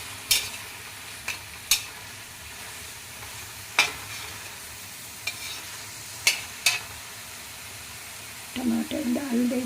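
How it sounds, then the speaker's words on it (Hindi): Masala and tomatoes fry in a pan for raw banana kofta curry. A soft, steady sizzle is broken by a few sharp spoon clicks against the pan, and a voice speaks at the very end. "टमाटर डाल के भून लेंगे।"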